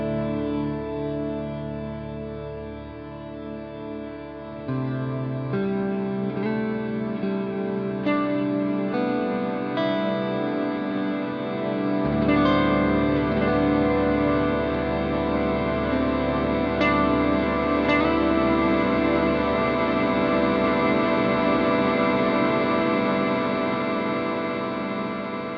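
Earthquaker Devices Afterneath reverb and delay pedal on an instrument, layered tones building into a dense, washing swell of echoes and reverb that sustains and stacks over itself for the full stretch, with no voices.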